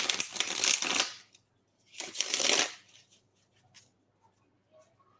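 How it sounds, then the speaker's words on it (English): Tarot cards are shuffled in two quick riffling bursts, crisp and close, followed by quieter handling sounds. "We're going to go with three cleansing shuffles."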